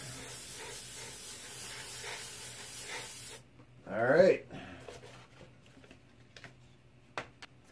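An airbrush sprays paint through a hand-cut stencil with a steady, close hiss that runs for a few seconds and then cuts off, followed by quieter handling noises and a few soft taps.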